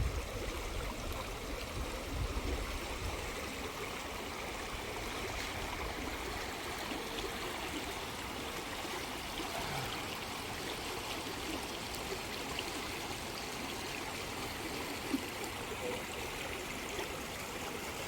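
A rushing stream and waterfall in Ojos del Caburgua Park, Chile, give a steady, dense wash of flowing water throughout, broad and continuous with no clear breaks and no audible talk.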